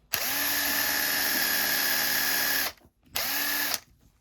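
A drill-driven polishing tool whines steadily at high speed on a bronze ritual brazier with polishing agent, running for over two seconds, pausing briefly, then whirring again in a shorter burst before stopping.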